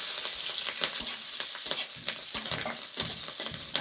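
Chopped green chillies hit hot oil with cumin and radhuni seeds, crackling and sizzling up close with quick sharp spits and stirring sounds throughout.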